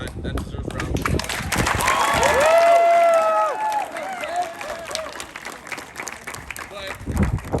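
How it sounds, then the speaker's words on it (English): Applause ripples through an audience at a varsity boys' team awards ceremony for the team captain, steady clapping mixed with a few cheers and whoops, fading toward the end. "that deserves a round of applause"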